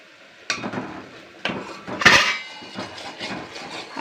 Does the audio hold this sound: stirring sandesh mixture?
yes